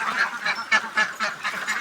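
Egg-laying ducks housed in sheds on a Bangladeshi duck farm, quacking and honking in a loud, rhythmic series of repeated calls packed close together.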